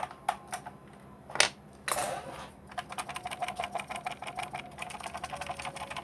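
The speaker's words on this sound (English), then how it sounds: "I'm hearing an odd rattle that I want to try and point out." A Jazzwares Micro Galaxy Millennium Falcon toy is shaken, and something small rattles loose inside it. The rattle comes as close, rapid clicks, with a few sharper knocks early on and then a fast, steady clatter.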